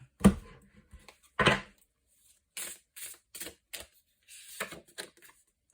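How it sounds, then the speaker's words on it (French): Tao cards being handled and one drawn from the deck, with a series of close, crisp card snaps and flicks separated by short pauses, with no talking. "je vais vous sortir une carte du Tao"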